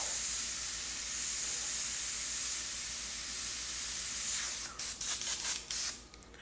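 Airbrush spraying thick Createx paint mixed 3:1, a loud continuous airy hiss that turns into sputtering, choppy bursts near the end as the spray falters.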